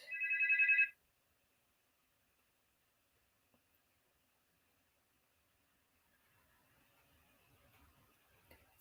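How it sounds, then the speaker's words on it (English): A single telephone ring sounds loud and close for about a second at the start, then near silence follows before faint room noise and low background sounds return. "I don't know if the phone is going."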